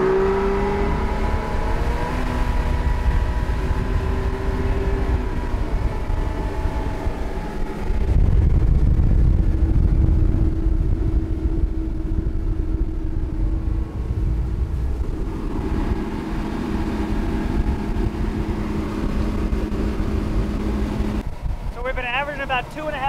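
A Shallow Sport 25' X3 boat's outboard motor drones steadily while cruising into the wind, with heavy wind buffeting across the microphone and someone talking over the engine noise throughout.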